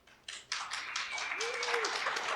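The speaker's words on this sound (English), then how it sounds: "why don't we give a big applause for them" Audience applause at a conference talk on hacking OAuth, a burst of many hands clapping that swells quickly and holds steady, with a voice briefly audible over it.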